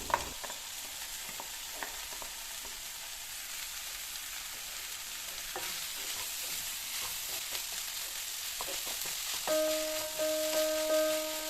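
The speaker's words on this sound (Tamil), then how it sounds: "இப்போ மிக்ஸ் பண்ணி வச்சுருக்கிற சுறா மீனை நம்ம கடாயில் போட்டு வதக்க போகிறோம்" A mixed shark fish mixture for puttu sautés in a kadai with a continuous close sizzle, punctuated by repeated scraping stirs; a faint tonal beeping rises near the end.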